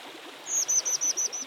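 Birds at a nest while the parents feed their chicks give a rapid series of about six thin, high chirps, close and fairly clear, over a steady background hiss like running water.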